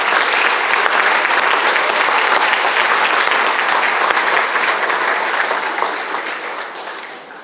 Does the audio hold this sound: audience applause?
yes